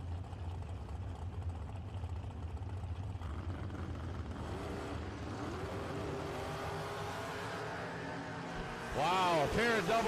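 A long dragster and a Camaro at a drag racing event, engines idling and rumbling at a distance before a louder revving burst near the end, under steady crowd and track ambience.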